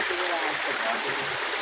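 Cold water runs hard and steady, a loud continuous rushing stream over the whole stretch, with no break or change in force.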